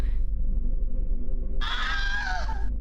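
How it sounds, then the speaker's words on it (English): A Wilhelm scream sound effect cuts in sharply as a loud, roughly one-second cry with a falling pitch, over a steady low background hum. "The Wilhelm scream?"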